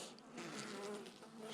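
Honeybees buzzing in a hive colony, a steady continuous drone with a few louder passes nearby, no voices.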